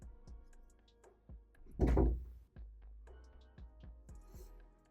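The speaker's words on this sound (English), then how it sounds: "Sorry about my door banging." A door blown by the wind bangs shut with one loud, heavy thud, surrounded by quieter knocks and rattles from the door shifting.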